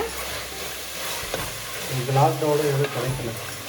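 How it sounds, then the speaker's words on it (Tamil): Tomato, mint and a handful of coriander leaves sizzle and fry in a pan while being stirred, a steady close sizzle with scraping strokes of the spoon and brief background voices. "ஒரு கைப்பிடி மல்லி இலை இதே நல்லா வதக்கிக்கோங்க"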